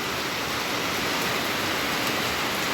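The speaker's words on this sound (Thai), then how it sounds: "ตื่นมากกับฝนตกเลย" Steady rain falling over flooded rice paddies, a dense even hiss with no break, close and continuous.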